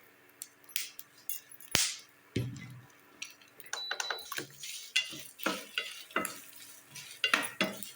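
Coconut and chillies sizzling in a hot pan while a spoon stirs and scrapes, giving sharp irregular clinks and crackles over a soft frying hiss with no voices.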